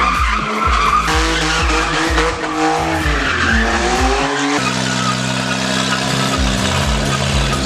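Cars at an outdoor auto fest driving exhibition skid and squeal their tires loudly, engines revving close by with rising and falling pitch, a long steady tire screech dominating the second half.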